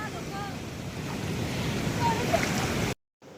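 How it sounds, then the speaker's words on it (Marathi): Steady roar of large ocean waves breaking on the Konkan coast at Harihareshwar, with wind buffeting the microphone; the sound cuts out abruptly near the end. "आता मोठ्या मोठ्या लाटा यायला लागलेल्या"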